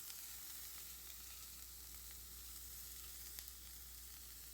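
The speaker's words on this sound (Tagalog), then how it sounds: "Maggisa ko little pork, onion and the garlic" Pork, onion and garlic sauté in a pan, a faint but continuous sizzle with a few small pops over a low steady hum, heard at a distance and without speech.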